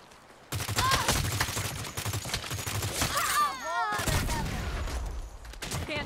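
Rapid gunfire from a temporary weapon in the 2022 video game Saints Row rattles in dense, loud bursts, with short gaps between volleys and warbling electronic tones over the shooting.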